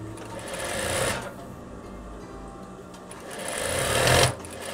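A sewing machine stitches a hem on fabric for a veterinary coverall, running in close, steady rattling bursts with a short slower stretch between them.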